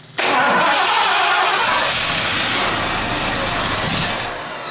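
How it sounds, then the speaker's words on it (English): A Ford 460 V8 engine catches and roars at close range, then runs rough and loud with a harsh, sputtering texture as it backfires through the carburetor, before easing down slightly at the end. "It's still backfiring out of the carb."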